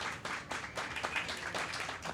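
An audience applauds to welcome the guests at a literary talk featuring writer and university lecturer Carlos Andrés Salazar. Dense, steady clapping from many hands fills the room evenly for the whole stretch, with no voices over it.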